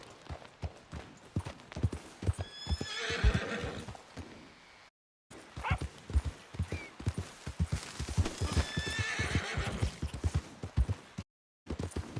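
A horse in the Red Dead Redemption II video game gallops with fast rhythmic hoofbeats, whinnying loudly twice over the pounding; two brief silent gaps break the run, and no one speaks.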